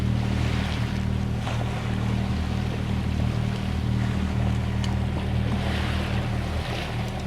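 A sailing boat motors under engine out of West Loch Tarbert, Jura, in light wind. A steady low engine drone runs throughout beneath a continuous wash of water and wind noise.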